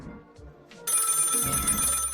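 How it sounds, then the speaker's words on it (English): Telephone ringing in the video game Lil' Guardsman: a bright, continuous electronic bell starts abruptly after a quiet moment and keeps ringing loudly to the end. "The phone is ringing."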